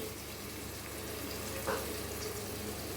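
Tomatoes softening in a hot pan for a Kerala-style dry fish and tomato dish, giving a steady, faint frying sizzle with a soft hiss throughout and no voices.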